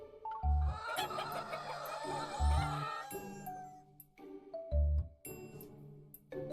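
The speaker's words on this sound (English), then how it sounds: "The chickens suddenly let out angry cries." Angry chickens from the video game Love and Deepspace squawk and cluck, mixed with a repeated chiming tone and game music, fairly quiet and without speech.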